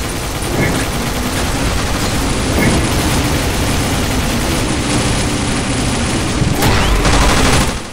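Rapid automatic gunfire in a Crash Bandicoot-themed shooter game stage, dense continuous bursts filling the whole stretch under engine-like rumble.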